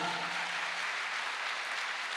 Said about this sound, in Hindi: एक जोरदार तालियां होनी चाहिए।